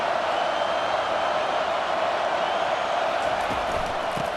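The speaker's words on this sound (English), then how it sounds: "this crowd bringing an ear-splitting welcome to their visitors" A stadium crowd at a college football game roars steadily in a loud, sustained wash of cheering and noise that holds without a break throughout.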